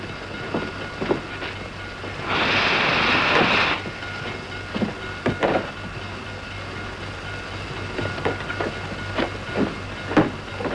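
A train rumbles along the rails with a steady clickety-clack of wheels, a louder hissing burst partway through, and no talking.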